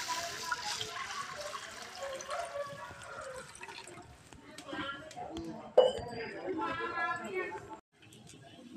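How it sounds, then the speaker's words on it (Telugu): Water poured into a pan for vermicelli kesari makes a splashing, liquid rush with a few clinks of the vessel, fairly faint, with a person talking at times. "ఇప్పుడు నీళ్ళు అయితే పోసుకోవచ్చు."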